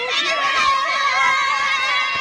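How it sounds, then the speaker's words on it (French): Excited crowd of new baccalaureate students in a schoolyard cheering and shouting with joy, many overlapping high voices and cries at close range, loud and continuous. "la cour s'anime, cris de joie, applaudissements, accolades"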